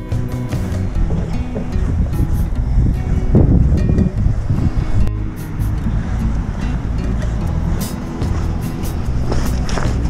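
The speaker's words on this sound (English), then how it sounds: "Check out the surf." Ocean surf at Parsons Beach rolls in as a steady, loud roar, mixed with gusty wind buffeting the microphone, and continues without break for about ten seconds.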